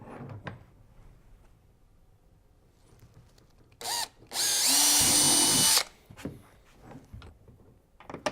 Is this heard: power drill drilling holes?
yes